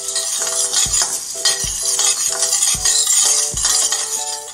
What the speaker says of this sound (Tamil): உளுந்தையும் அதே போல் வாசனை வர வரைக்கும் வறுத்துட்டா போதும்,